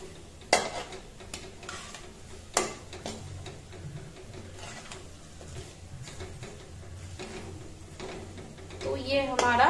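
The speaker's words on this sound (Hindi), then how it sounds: "बिरिया लगभग फ्राई हो चुका है" Biriya greens frying over a low flame in a pan, a faint sizzle with clinks and scrapes of stirring, and a louder hiss near the end, heard under a person's talk.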